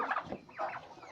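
Farm poultry, ducks with a rooster, calling at feeding time: a short burst of close, loud clucking and squawking fowl calls, with no talk over them.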